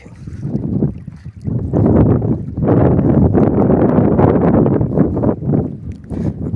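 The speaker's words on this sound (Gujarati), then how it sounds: "હલકા પવન" Gusty light wind buffeting the microphone in uneven rumbling bursts in an open field, loud and close, with no voices.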